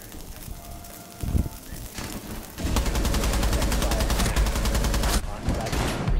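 Rapid gunfire in Rainbow Six Siege, with dense automatic bursts that get sharply louder partway through and carry on as a sustained close barrage, with a brief lull near the end.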